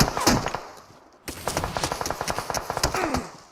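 Sustained automatic gunfire in PUBG Mobile, a loud burst followed after a brief lull by a long rapid rattle of shots, close and dense, with faint game ambience beneath.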